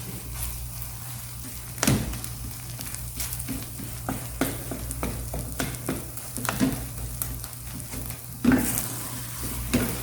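Thick crab cream croquette mixture being stirred and reduced in a pan for Japanese-style croquettes, giving a steady low sizzle with scraping spoon strokes and a couple of louder clacks, close by with no talking.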